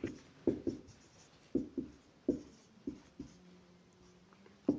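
A pen writes by hand on paper during a math lesson, producing faint, close scratchy strokes in short irregular bursts with quiet gaps between them.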